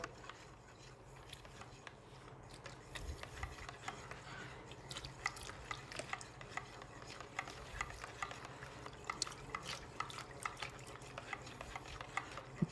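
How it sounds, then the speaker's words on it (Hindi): A homemade toilet cleaner mixture thickened with acid thickener is stirred in a tub, giving a steady wet sloshing and scraping at close range that continues throughout without speech. "थोड़ा साथ साथ आप मिक्स करते जाएं। ये टब में भी मैं मिक्स कर रहा हूँ।"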